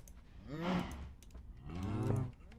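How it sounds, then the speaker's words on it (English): Two long, drawn-out cow moos from Minecraft, one after the other with a short pause between, fairly quiet and with no talking. "we can walk through and breed all of these cows"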